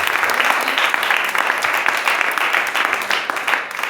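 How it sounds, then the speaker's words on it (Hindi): Applause from a church congregation during a Hindi-English worship service, a steady dense roar of many hands clapping close by, sustained throughout without pause. "Give the hand of praise."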